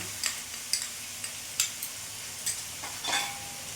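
Chicken mince cooking in a pan with cumin, Kashmiri chili powder and ginger-garlic-chili paste, giving soft sizzling under a run of short scraping stirs, close and fairly quiet, with no talk.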